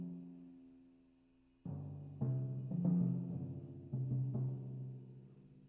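Soft, quick timpani strokes from an orchestral audition excerpt, played low and quiet: a sustained low tone followed by several gentle, distinct strikes that ring and overlap.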